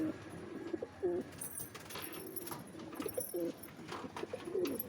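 Pigeons coo softly and repeatedly nearby, their low, throaty calls recurring over faint background noise.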